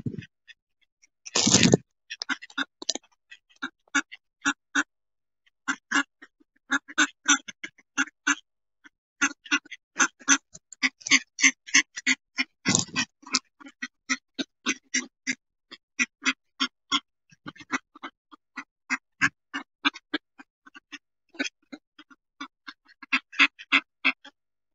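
Ducks being fed outdoors quack in rapid, repeated bursts, many calls close by and fairly loud, with short gaps between clusters and a few sharper knocks early on.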